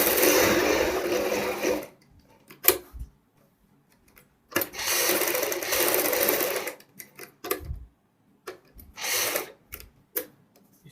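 Home sewing machine stitching lace onto the back neck of a blouse, loud close bursts of rapid whirring with ticking pauses between the runs.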